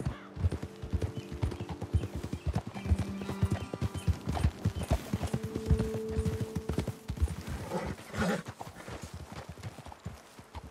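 Horse hooves clop in a brisk, uneven rhythm in the game Red Dead Redemption 2, several animals walking together over ground, fairly close, with faint tonal background sounds.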